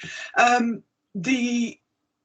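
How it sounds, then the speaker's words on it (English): Two harsh bursts of coughing from a nearby person at a council scrutiny committee meeting, separated by a brief pause, with no other sound around them. "I've just managed to get a coughing fit"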